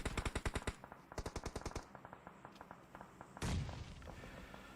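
Gunfire in a video game tournament match, bursts of rapid automatic shots followed by scattered single cracks and a heavier blast, all fairly faint.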